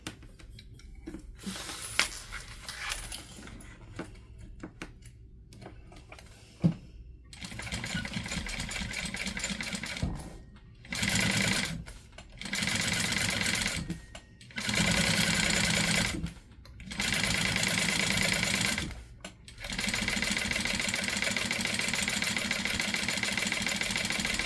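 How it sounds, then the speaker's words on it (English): A sewing machine top stitches fabric in a steady motorized whir, starting with scattered clicks, then running in several sustained bursts separated by short pauses, loud and close. "I'm just going to top stitch 1/8 of an inch all the way down"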